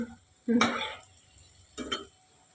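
Batter fritters frying in hot oil while a utensil clanks twice against the pan, two short bursts of scraping and sizzle over a quiet background.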